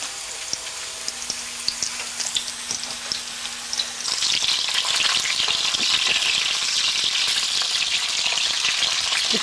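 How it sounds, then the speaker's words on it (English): Quiet kitchen clatter, then a sudden loud sizzle as bok choy potstickers hit hot oil, settling into a steady, crackling fry that carries on to the end. "The key to frying this is not to let your oil get too hot."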